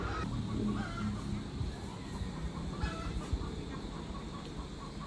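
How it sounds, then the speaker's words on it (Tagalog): Chickens cluck and a goose-like honking fowl calls repeatedly over a steady, noisy outdoor background; no one speaks. "mga putak-putak at tugtugaok ng manok ang madidinig natin"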